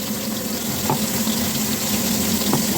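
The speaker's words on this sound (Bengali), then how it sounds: "তেল আমার গরম হয়ে গেছে, এবার মাছটাকে আমি দিয়ে দেবো।" Bhola fish sizzling in hot oil in a pan, a steady close crackling hiss with occasional small pops, continuous and unbroken.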